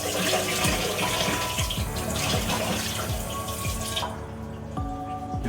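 Water runs from a sink tap with splashing and dripping, continuous and fairly close, stopping briefly near the end before flowing again.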